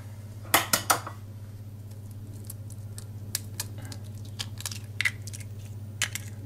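Choux pastry dough is beaten with egg in a bowl: a few sharp utensil clacks against the bowl, then sparse soft taps and wet patting over a steady low hum.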